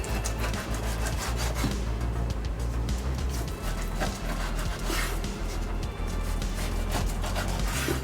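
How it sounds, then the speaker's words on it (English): A knife saws between the bones of a rack of baby back ribs, giving a steady, close scraping and rasping that runs without a break for the whole stretch. "You're gonna wanna cut in between each bone."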